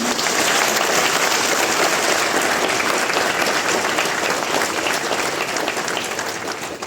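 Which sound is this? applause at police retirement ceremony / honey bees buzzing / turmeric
applause at police retirement ceremony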